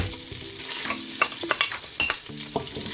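Onions fry in butter on a stove with a steady close sizzle, broken by repeated clinks and scrapes as a utensil stirs them around the pan.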